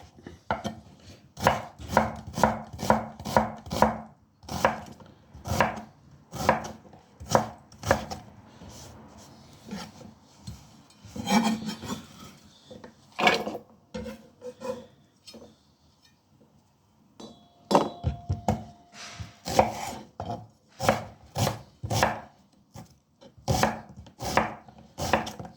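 Onions being chopped with a knife on a board for a veal paupiettes and ratatouille dish, a long run of close, crisp, rhythmic cutting strokes in quick bursts with brief pauses, no talking.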